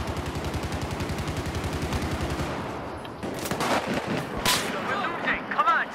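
Sustained heavy gunfire in the video game Battlefield 4, with rapid repeating shots and booming blasts that give way to scattered sharp cracks and bursts.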